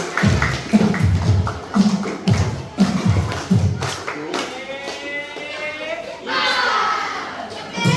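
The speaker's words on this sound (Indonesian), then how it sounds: "Tepuk tangan Iwan, anak-anak" Young pupils at a preschool and primary school clap in a loose rhythmic pattern of short bursts, with thuds and excited children's shouts, then voices and crowd chatter take over.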